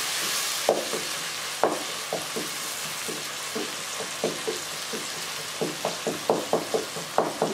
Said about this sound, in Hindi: ये टमाटर साथ साथ गलता जाएगा, हम इसको इस तरह करते जाएंगे तो ये इसमें अच्छे तरीके से मिक्स हो जाएगा और इसको साथ अच्छी तरह हिलाते जाएंगे